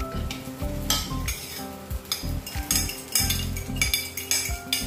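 Egg is stirred into fried rice in a hot pan, a steady sizzle and frying hiss broken by rhythmic scrapes and clinks of a metal utensil against the pan, close and continuous.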